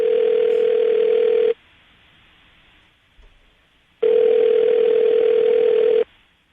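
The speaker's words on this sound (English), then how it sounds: "I'm going to dial the phone number right now" A telephone ringing tone buzzes twice while dialing a call, two steady electronic tones each lasting about a second and a half, separated by a quiet gap.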